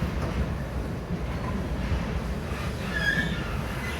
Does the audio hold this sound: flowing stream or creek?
no